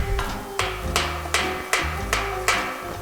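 A rubber mallet taps a flathead screwdriver wedged between the angle iron and the spring of a squeaky spring base rocker, giving six sharp, evenly spaced metallic knocks, close and clear with no talking.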